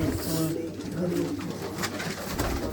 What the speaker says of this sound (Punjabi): ਕਬੂਤਰ ਇੱਕ ਗੁੜਕਦਾ ਪਿਆ